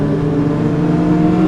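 A carbureted Honda Hornet motorcycle revs nearby, giving a brief, loud, steady engine drone.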